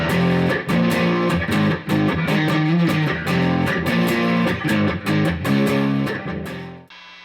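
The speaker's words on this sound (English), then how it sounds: "We try with a rat type distortion." Monoprice Indio Strat electric guitar played through a RAT-type distortion pedal, loud thick chugging riffs with rhythmic strummed chords, dense and saturated, ending abruptly.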